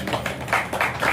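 An audience clapping at a devotional gathering, a short burst of several brisk, fairly close claps in a quick uneven rhythm.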